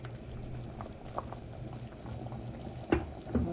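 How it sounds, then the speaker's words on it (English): Water boiling in a pot of rice and beans, a low steady bubbling with scattered pops and sharper spluttering bursts near the end, quiet and close with no voices. "I'm just gonna let this boil for like 10 more minutes until the water is reduced"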